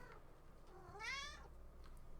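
House cat giving a single faint meow, rising and then falling, nearby over a quiet background hum.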